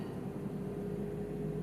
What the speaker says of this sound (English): Well, unfortunately that fan at the front's just come on,